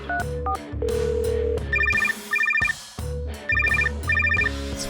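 A phone rings in repeated short trilling bursts over other sounds, two pairs of rings with brief gaps between them.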